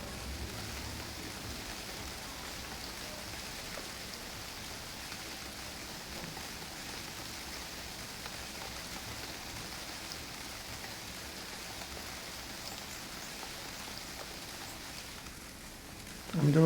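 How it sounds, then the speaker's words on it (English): Rain falls steadily in the survival game UnReal World, a soft, even hiss of drops spread across the whole stretch, moderately quiet, with a brief louder bump at the very end. "Have I ever mentioned I hate hunting in the rain?"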